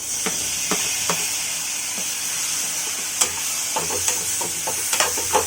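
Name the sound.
tomatoes added to sizzling masala in pan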